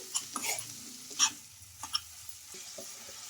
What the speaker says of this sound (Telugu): ఇంకా ఈ చికెన్ వేసేసుకొని మొత్తం బాగా ఇలా ఒకసారి కలిపేసుకోవాలి